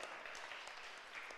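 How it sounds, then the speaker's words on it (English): Brief, faint applause from an audience at the Swansea Food Festival, a short patter of scattered clapping heard at a distance. "Give it a round of applause."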